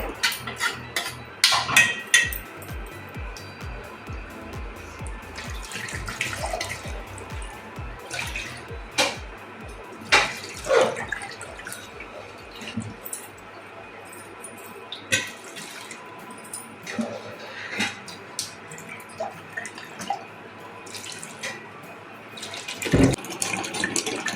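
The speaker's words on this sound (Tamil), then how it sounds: "ஃபர்ஸ்ட் இந்த பாத்திரத்துல தண்ணி ஊத்திக்கலாம்." Water running and splashing into a cooking pot on a stove while making homemade ginger wine, uneven gurgling and dripping close by, with clinks of the pot and no talk.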